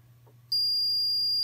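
A Type 4 230V single-loop fire alarm control panel's buzzer sounding during a test, a sudden steady high-pitched electronic tone that starts abruptly and holds continuously and loudly after a faint hum.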